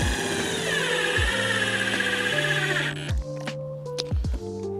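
A power drill drives screws into a dry slope ramp for a backyard snowboard and ski jump, a close, loud whine for about three seconds followed by short, choppy bursts.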